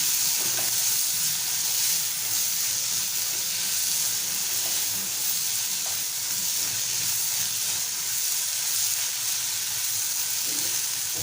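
Chutney is stirred and mixed in a hot pan, giving a continuous close hiss and sizzle that runs unbroken throughout, with faint scraping and no voices.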